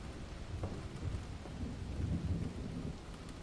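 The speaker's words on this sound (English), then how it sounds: "Yeah, it's been raining the whole time." Steady rain patters in the video game Ten Bells, with soft, distant rolls of thunder rumbling underneath, fairly quiet throughout.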